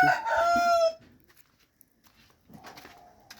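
A rooster of the Harati breed crows once, loud and close, a bright strained call lasting about a second, followed by quiet scratching and a faint rustle.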